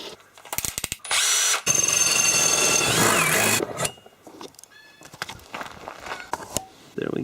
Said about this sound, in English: It's just gonna drill out this hole.